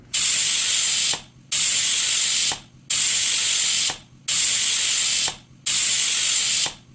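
A pressure cooker of mutton curry on the stove lets out steam in five loud, evenly spaced hissing bursts. Each burst is separated by a brief gap and heard up close, with no talking.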